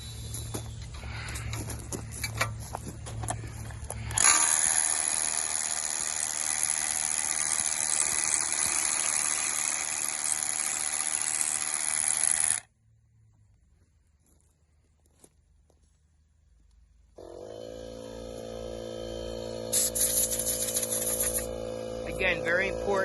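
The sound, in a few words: drilling holes in concrete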